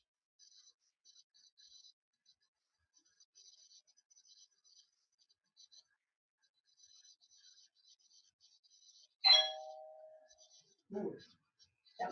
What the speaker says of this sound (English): That was my doorbell.